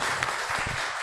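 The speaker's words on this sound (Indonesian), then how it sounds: "Tepuk tangan untuk Kanjeng Natonegoro." Audience applause at a judging event for a folk bregada troop parade, a brief burst of many hands clapping at steady volume, with a few low thumps mixed in.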